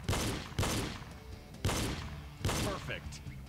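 Four loud, close gunshots from a pistol in a video game shooting range crack out at uneven intervals, each with a short reverberant tail and no speech over them.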